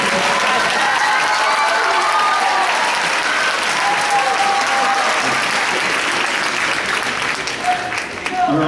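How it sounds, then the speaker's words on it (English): An audience breaks into loud, sustained applause with some cheering after a performance of the song Loch Lomond, dense clapping filling the room and tapering slightly toward the end. "We're all cheering and excited now"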